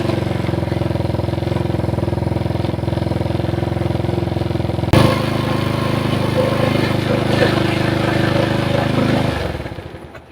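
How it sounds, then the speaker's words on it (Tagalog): Small motorcycle engine with its idle set too high from a carburetor problem, running loud and steady up close, with a sharp knock partway through and the revs dropping away at the end. "niluwagan ko na po yung idle ng kanyang minor, pero napakalakas pa rin."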